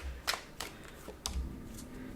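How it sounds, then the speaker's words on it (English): Tarot cards shuffled by hand, giving a few quiet, sharp papery snaps and riffles spaced irregularly across a couple of seconds, with no talking. "I am shuffling the cards"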